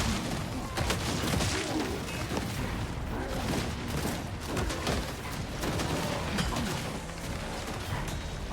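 Battle gunfire in Total War: Warhammer 40,000: a steady, busy barrage of overlapping shots, crashes and mechanical clatter, moderately loud and unbroken throughout.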